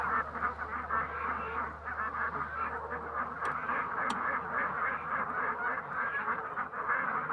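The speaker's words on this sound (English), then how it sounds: "The geese are coming." A flock of Canada geese honks continuously, many overlapping calls forming a loud, busy chorus close by.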